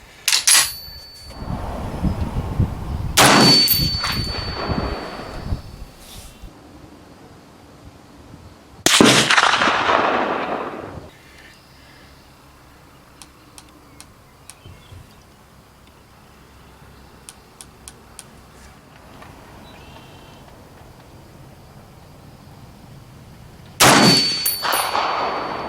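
Gunshots at an outdoor shooting range from a Lencac Big Arken rifle: loud, sharp reports separated by long pauses, each followed by a ringing metallic clang of a struck steel target, with quiet range ambience between.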